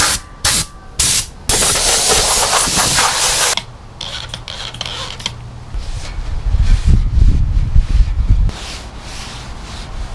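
Primer sprays onto a 1973 Scout II front grill in bursts of loud hissing from a spray can, first in short pulses, then a longer continuous spray, before quieter rubbing and clattering from the work area.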